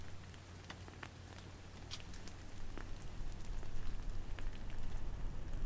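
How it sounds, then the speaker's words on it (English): Fast-melting snow drips everywhere with a light, irregular patter like rain, crisp close drops scattered over a soft hiss that grows a little louder midway, with no voices. "The snow was melting so quickly, it sounded like rain."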